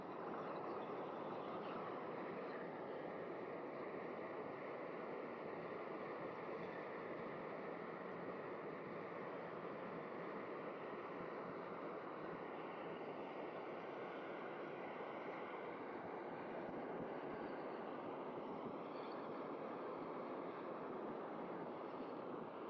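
A FIREMAPLE Polaris and a SOTO Windmaster gas canister stove burn side by side at full power, making a steady, even roaring hiss that holds unchanged throughout at moderate volume, with no talk.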